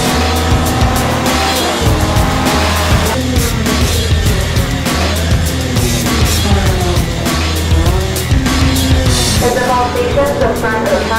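Vintage race cars at speed on a road racing track during a 2018 championship weekend, engines roaring loud and continuous with shifting pitch as cars pass and accelerate, occasional tire squeal.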